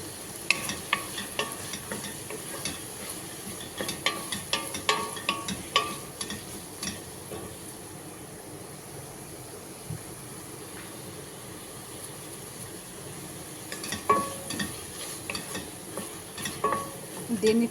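Dried-meat curry with turmeric and pepper powder frying in a pan, a low sizzle broken by bursts of brisk scraping stirs, with a quieter stretch in the middle before the stirring picks up again.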